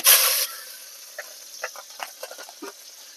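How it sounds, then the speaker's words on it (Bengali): Green chilies hit hot oil for a neem begun tempering, giving a loud, bright hiss for the first half second, then a softer sputter of small crackles and pops that dies away. "এই ফোড়নে আমি লঙ্কা দিয়ে দিচ্ছি"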